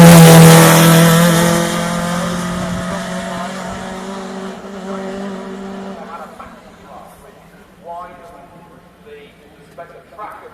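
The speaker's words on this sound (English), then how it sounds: "That's how wide Matthew Lewis's car is that we've got going up the hill now." Matthew Lewis's wide-track Renault Maxi rally car climbing a hill, its engine loud and close at first, then fading into the distance as a commentator talks over it.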